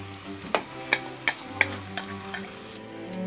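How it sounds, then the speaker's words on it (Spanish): Chopped jagua stirred into hot sizzling caramel in a pan, a steady close sizzle broken by several sharp spoon scrapes and knocks against the pot, with no talk. "Y en el mismo caramelo yo le voy a colocar jagua picada."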